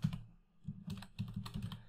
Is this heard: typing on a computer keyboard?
yes